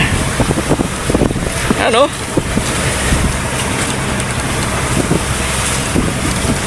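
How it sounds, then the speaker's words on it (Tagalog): A boat pushes through big, dizzying waves off Puruhan, with steady roaring wind buffeting the microphone and water rushing throughout, while someone speaks briefly over the noise. "Malalaki ang alon,"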